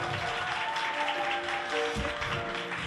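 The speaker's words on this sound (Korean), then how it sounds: "박수 부탁드리겠습니다" An audience at an arts and corporate value forum applauds with steady, sustained clapping that fills the hall evenly throughout.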